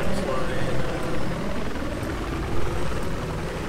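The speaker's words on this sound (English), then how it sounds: "with the new third person view, it's a lot easier to avoid hitting buildings in the chopper" A helicopter in the Battlefield 4 video game, on the Siege of Shanghai map, gives a dense, continuous rotor and engine roar with slight pulsing. Game noise sits close under it, and a player talks over it.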